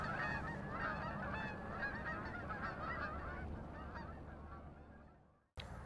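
Canada geese and sandhill cranes call together over a refuge marsh, a dense chorus of overlapping honks and rattling bugles at moderate distance that fades and cuts off abruptly near the end.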